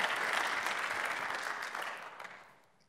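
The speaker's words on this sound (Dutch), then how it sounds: "Mag ik een applaus voor deze pitch?" An audience at a university symposium applauds a student team's pitch, a dense wash of steady clapping that holds for a couple of seconds and then thins and fades away.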